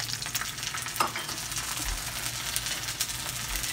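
An egg fries in a hot pan, a constant crackling hiss with small pops, fairly quiet and close, no voices.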